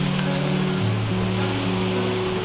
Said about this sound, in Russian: Водопад Кравец.